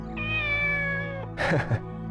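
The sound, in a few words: cat meowing in video game Shenmue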